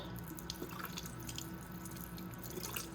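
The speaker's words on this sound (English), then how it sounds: "put it in some water. I take and rinse" Glowstick capsules are rinsed in a glass of water, giving faint trickling and small dripping splashes that continue softly without any talk.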